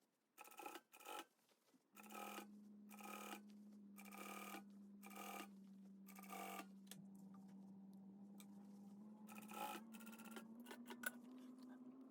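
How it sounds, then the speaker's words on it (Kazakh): A sewing machine stitching a trouser seam runs in short rhythmic bursts, then settles into a steady motor whir with a faint mechanical rattle, close and fairly quiet. "Тігісті мына жердегі төменге қарай жатқызып, осы жерден шетінен тігіп шығамын."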